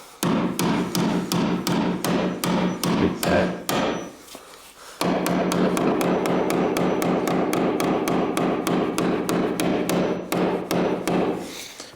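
Rapid, steady hammer blows striking wood, loud and close, in a knife shop under construction, with a brief pause midway before the pounding resumes at the same quick pace.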